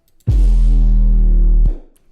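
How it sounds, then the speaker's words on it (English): A single deep, booming 808 bass sample with a swirling, phasey wash, sustaining about a second and a half before cutting off and fading. "the 808 sample sounds really washy and strange."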